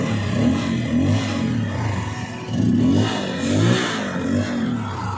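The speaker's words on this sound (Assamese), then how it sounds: "বৰ্তমান বাইকখন ষ্টাৰ্ট কৰিলোঁ" A Bajaj Pulsar F250 motorcycle engine runs close by, giving a steady rumbling idle that swells in a few short rev-like surges before settling back.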